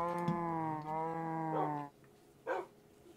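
Cows in the video game Minecraft give a long, loud, tonal moo, then a shorter second one, followed by a few brief muffled thumps.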